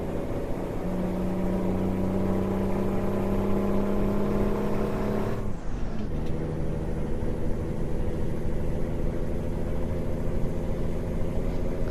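A Peterbilt 377 truck engine in American Truck Simulator hums steadily with sustained tonal drones, then drops briefly in the middle before rising loud again and holding a strong, continuous rev.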